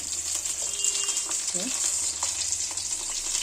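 Tomatoes and thinly sliced onion fry in a pan with a steady, close sizzle and crackle that keeps going throughout, joined by a few soft stirring knocks.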